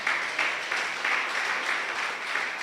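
Congregation applauding the Lord during a church sermon: steady, dense crowd clapping filling the whole stretch, loud and continuous with slight swells.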